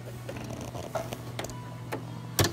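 A sewing machine hums close by with scattered mechanical ticks and creaks as it runs straight and zigzag stitching along the side seam of a newborn baby sleeper.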